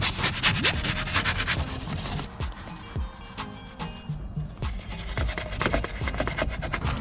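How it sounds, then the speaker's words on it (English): A brush scrubs over a car during cleaning, with repeated close, gritty rubbing strokes that pause briefly midway and then resume at a steady rhythm. "And time to brush it down."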